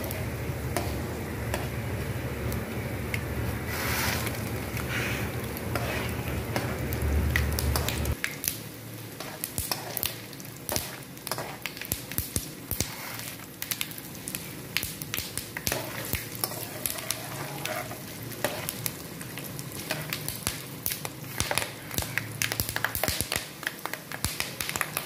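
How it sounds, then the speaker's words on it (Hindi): Several ingredients frying in oil over a low flame: a steady sizzle with stirring taps and scrapes, louder and denser at first, then thinner crackling with irregular clicks. "हल्की आंच पे आपने इन सारी चीज़ों को तेल में जलाना है"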